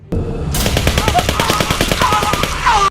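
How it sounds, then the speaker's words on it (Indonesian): A loud, rapid burst of AK-47 automatic gunfire in a Vietnam War film, shots cracking in quick regular succession for a few seconds, close and sustained. "tiba-tiba tembakan dari senjata AK-47 menghantam tubuh Verano dari depan."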